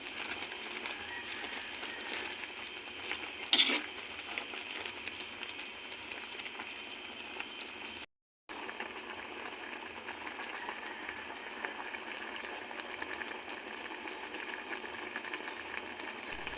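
Coconut milk broth with malunggay leaves and dried fish simmers in a pot, giving a steady, close bubbling hiss with a brief clatter near the start and a short gap midway.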